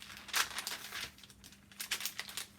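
Paper sewing pattern being folded by hand to close out a bodice dart, giving soft crinkling and rustling in a few short bursts, close and quiet, with no talking.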